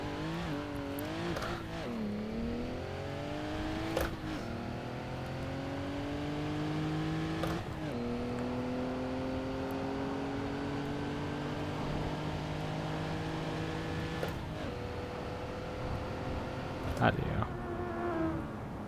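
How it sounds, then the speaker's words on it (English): A Honda B18-engined car in Assetto Corsa Competizione, held in first gear on the handbrake, its engine repeatedly revving with high buzzy whines that climb and fall, under faint talking. "Just making Honda noises."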